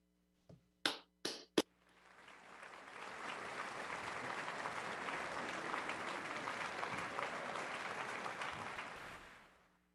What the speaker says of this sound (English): how about another round of applause, virtual or real